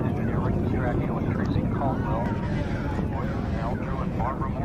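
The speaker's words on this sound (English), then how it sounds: "Engines beginning to rev up." Space shuttle Discovery's engines roar in a steady, dense rumble nearly a minute into launch, near 750 miles an hour, with a radio commentary voice speaking over the continuous noise.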